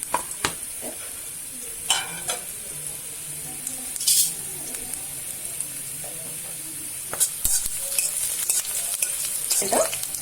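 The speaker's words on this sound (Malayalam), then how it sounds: "ഇനി ചട്ടി വെച്ച് വെളിച്ചെണ്ണ ഒഴിക്കുക. അത് മൂത്ത് വരുമ്പോഴേക്കും ഇതിലേക്ക് വെളുത്തുള്ളി പച്ചമുളകും" Garlic and green chillies sizzle in hot coconut oil in a pan, a steady close frying hiss broken by occasional stirring scrapes and clatters, with faint running water in the background.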